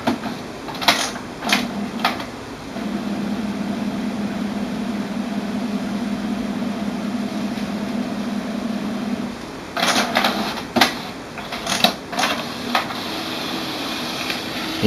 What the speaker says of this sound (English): Power off the printer.